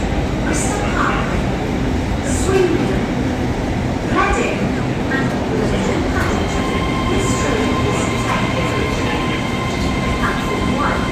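A GWR passenger train passes close by on a Welsh railway line in the evening, a loud, steady rumble of wheels and carriages lasting throughout with occasional rail clatter, while someone talks over it.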